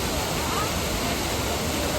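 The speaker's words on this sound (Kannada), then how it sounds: "ನೋಡಿ ಕಲ್ಲತ್ಗಿರಿ ಫಾಲ್ಸ್ ಹೆಂಗ್ ಸಖತ್ತಾಗಿದೆ" Kallathgiri Falls in Chikmagalur pours heavily with rainwater, a loud, close, unbroken broadband roar of falling water filling the whole stretch without pause.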